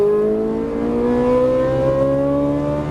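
A Ferrari 458 Italia engine pulls hard under throttle on a track, its loud, close howl steadily rising in pitch through a continuous acceleration with no talking.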